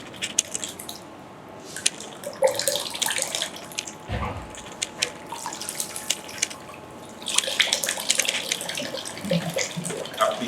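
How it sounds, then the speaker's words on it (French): Running tap water splashes over hands at a sink during a clinic hand-hygiene demonstration, a steady close wash with dripping and squishy handling that swells louder toward the end. "se mouiller la main."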